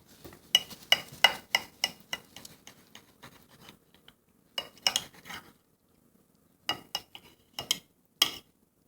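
Knife and fork cutting a grilled steak on a plate, with shrimp seasoned with Old Bay and potatoes alongside: a run of sharp scraping, clinking strokes in quick bursts, pausing, then a few more scrapes, close and clear with no talk.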